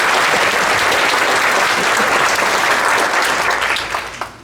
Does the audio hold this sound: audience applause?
yes